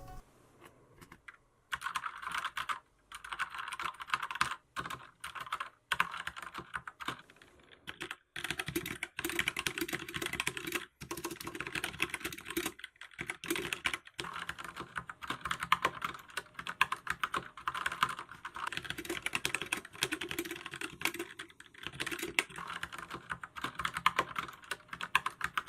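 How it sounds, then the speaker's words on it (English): Rapid clacking of mechanical keyboard keys on an Ajazz AK60 with red and Otomu blue switches, bursts of typing with brief pauses between runs, close and crisp. "here is a quick sound test of the red keys versus some Otomu blue switch keys"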